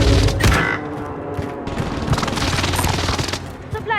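Airstrike in the Warzone Pacific shooter game, a dense barrage of rapid gunfire and explosions rumbling continuously and loudly, with a mechanical whine near the end and no clear speech.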